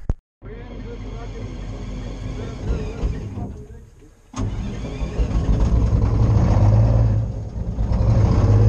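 An old logging machine engine cranks on a cold start and turns over, drops out briefly, then fires up and settles into a loud, rough, low rumbling idle.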